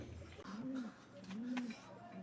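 A Rajshahi tumbler pigeon in a loft gives two soft, rising-and-falling coos, with a third beginning at the end, over low background noise.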